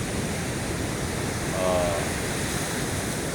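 Sea waves washing onto the shore during Typhoon Kristine, a steady broadband wash of surf and wind noise filling the whole clip, with a brief swell in the middle and no talk.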